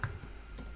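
Keys clacking on a computer keyboard during forex strategy backtesting, a quick burst of a few close, crisp taps within under a second, with no voices.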